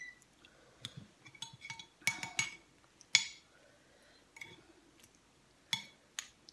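Spoon clinking against dishes while eating Thai kaeng poe, a curry with bamboo shoots, at a lunch table: scattered sharp clinks and taps, several close together near the middle, with soft handling sounds between them and no talk.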